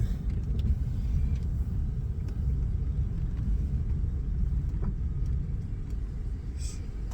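Steady low rumbling hum of a car with a worn wheel bearing, a constant droning tone underneath the road noise throughout.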